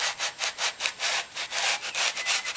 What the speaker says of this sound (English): just smooth it off so that I've got the fold of the sandpaper